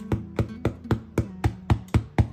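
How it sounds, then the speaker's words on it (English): Nine evenly spaced hollow knocks on the bottom of a baked loaf of bread, close and resonant like a muffled drum, tapped at a steady rhythm with no talking. "That's the sound of properly cooked bread."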